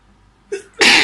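One close, loud sneeze: a short sharp intake of breath, then an explosive burst.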